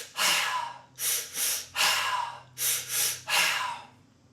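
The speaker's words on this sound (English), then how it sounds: "Third round I like to do where I do 2 breaths in, 1 breath out, something like this." Rapid breathwork breathing in a repeating pattern of two quick inhales and one exhale, six close, loud breath bursts in quick succession with no talking.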